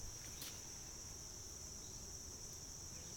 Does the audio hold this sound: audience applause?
no